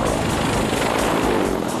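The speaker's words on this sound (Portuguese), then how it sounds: "O Sycorsky Ch-53E Super Stallion é o maior helicóptero do mundo ocidental." A Sikorsky CH-53E Super Stallion heavy-lift helicopter, the largest in the western world, with a 79-foot rotor, roars in a loud, steady broadband wash of rotor and engine noise, close and continuous with no talk.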